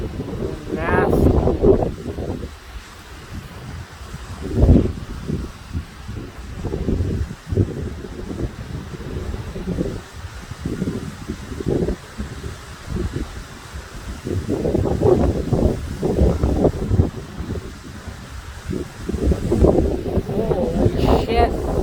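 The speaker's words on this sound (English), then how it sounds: "The wind is unbelievable." Strong gusty wind during a severe summer windstorm with a thunderstorm approaching in Chestermere, Alberta, buffeting the microphone in loud rumbling surges that rise and fall throughout.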